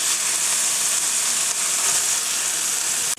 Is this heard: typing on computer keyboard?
no